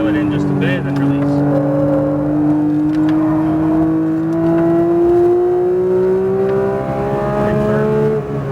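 A Porsche 992 GT3 race car at Speed Vegas accelerates hard along the track, its engine note climbing steadily in pitch as it pulls through the gears, loud and close from onboard, with a voice speaking over it.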